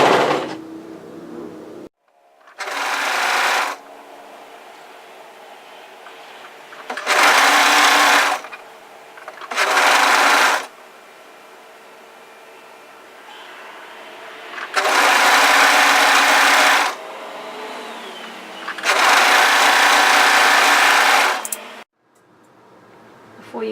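Several bursts of home sewing machine stitching as a spliced cowl neck top seam is sewn, loud and close, each run lasting a few seconds with quiet pauses between.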